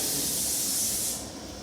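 Fish dropped into hot oil gives a sudden loud sizzling hiss up close, which eases a little after a second but keeps spitting.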